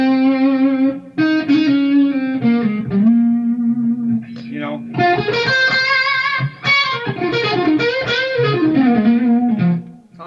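Electric guitar played through the first channel of an EVH Stealth amp with the gain set low, giving a warm, fairly clean tone: sustained notes and chords, then busier melodic runs, loud and close throughout without any talking.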